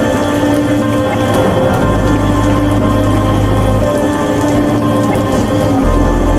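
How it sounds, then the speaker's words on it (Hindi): Heavy rain falls without a break outside a cemetery mansion, a dense, constant wash of drops that stays at an even, loud level with a low rumbling undertone throughout. "जिसके बाहर जोरों से बारिश हो रही थी,"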